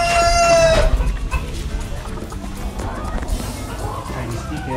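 Chickens on a farm in San Marcelino, Zambales, with a rooster crowing loudly and close at the start, followed by scattered clucking and general farmyard activity.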